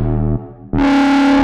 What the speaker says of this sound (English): And next, we're gonna add some reverb.